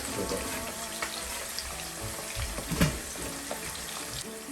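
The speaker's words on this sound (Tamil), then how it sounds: "பொரிஞ்சதுனாக்க ஒரு சைடு பொரியும் போதே உங்களுக்கு தெரியும் பபிள்ஸ் குறையிறது" Sri Lankan traditional food fries in hot oil, bubbling and sizzling continuously at close range with a dense crackling hiss and occasional louder pops. No one talks.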